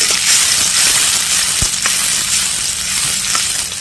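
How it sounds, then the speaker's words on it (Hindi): Onions frying in oil in a pan while being stirred, with a steady loud sizzle and a few soft scraping knocks from the spoon. "प्याज को हम डाल देते हैं और अब हम चला लेते हैं। प्याज की कर लेते हैं फ्राई।"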